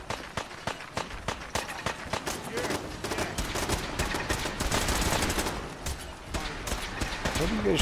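Rapid gunfire rattles through a firefight in the video game Fallout 4 with the Sim Settlements 2 mod, dense volleys of automatic and single shots cracking continuously at mid distance while voices talk over the battle.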